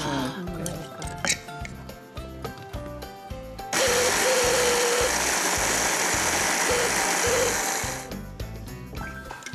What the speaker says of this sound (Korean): 요것만 또 다시 한번 넣고 갈아주시는 거예요